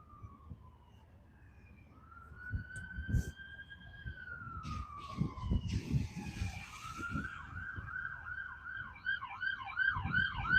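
A wailing siren sweeps up and down, then shifts to a fast yelp as an ambulance passes nearby in Broadview, Illinois, with traffic rumble underneath.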